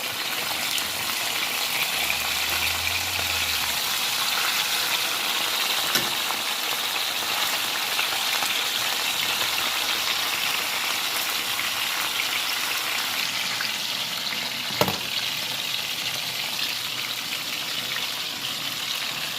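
Fish and ground beef with vegetables sizzle steadily in a pan, a loud, continuous hiss of frying that stays even throughout with a couple of faint knocks and no talking.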